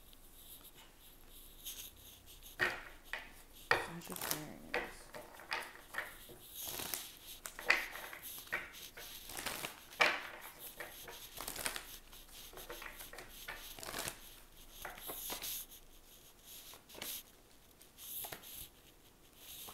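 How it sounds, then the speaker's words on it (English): Tarot cards shuffled by hand, quiet close papery riffles and rubbing taps in irregular bursts, soft and near with no talk. "Let's pull some tarot cards too."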